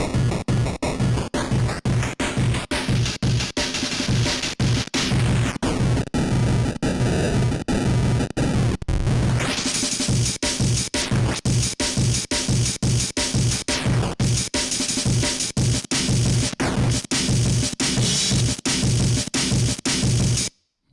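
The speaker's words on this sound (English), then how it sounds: "So this digital here is basically like a bit crusher sound." Loud, continuous bit-crusher distortion from a digital effect in Reason, with steady drum-and-bass breakbeat hits pulsing underneath and harsh, gritty digital tones sweeping and stepping above them before cutting off at the end.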